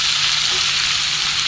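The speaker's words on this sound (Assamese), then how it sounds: "মছলাখিনি ভাজা হৈ গ'ল" Spices frying in a pan for an Assamese battered cauliflower recipe give a steady, close, loud sizzle with a faint crackle throughout, and nobody speaks.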